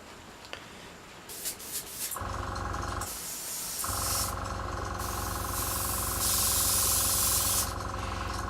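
Airbrush spraying metallic grey paint onto an ED 209 model in 1/9 scale, a steady close hiss in bursts with a short pause, joined by a constant low compressor hum.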